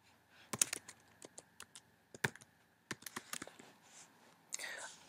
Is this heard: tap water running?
no